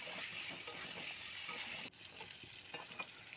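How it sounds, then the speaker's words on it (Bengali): Potatoes frying in hot oil with salt and turmeric in a wok, giving a steady close sizzle with a brief dip partway through, then stirring clatter and the hiss resuming. "এই তেলের মধ্যে মিশিয়ে তার মধ্যে আলুগুলোকে দিয়ে ভালো করে ভেজে নিচ্ছে"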